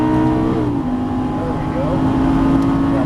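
A Lamborghini Gallardo Superleggera LP570 on a racetrack accelerates at full throttle, its loud, close engine drone holding a steady tone, with a brief dip as the gear changes before the engine pulls hard again.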